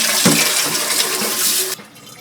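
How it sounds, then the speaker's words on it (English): Tap water runs steadily into a cooking pot in a kitchen, a broad rushing splash that cuts off near the end, with no talking. "I just wash this my pot because I'm going to cook here."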